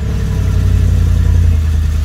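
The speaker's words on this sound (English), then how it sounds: "Right, let's get the car running." A BMW engine runs steadily at idle after starting, a loud low rumbling drone with an even pulsing texture and no speech.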